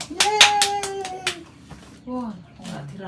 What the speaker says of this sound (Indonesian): Maju. Tepuk tangan.